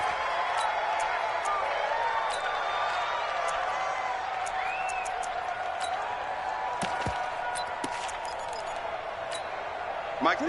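Stadium crowd in a football video game, a steady roar of murmuring fans with scattered whistles and shouts throughout, a commentator talking over it.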